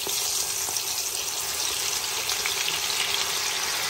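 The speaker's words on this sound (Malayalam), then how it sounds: "വെളിച്ചെണ്ണ ചൂടായിട്ടുണ്ട്. അതിലേക്ക് നമ്മുടെ ചിക്കൻ ഇട്ട് കൊടുക്കുക" Chicken pieces frying in hot coconut oil, a dense continuous bubbling sizzle close up, steady and loud throughout with occasional crackles, with no talk.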